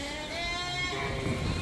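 Sheep on a working sheep farm bleat in a drawn-out, wavering call that is moderately loud and close, with faint background rumble and no talk.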